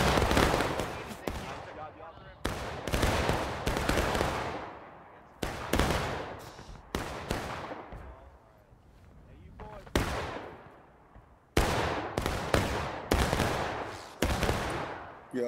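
Musket volleys crash out in a War of Rights Civil War battle with a 240-player crowd. Roughly nine loud, booming volleys come in ragged succession, each ringing out in a long, rolling echo.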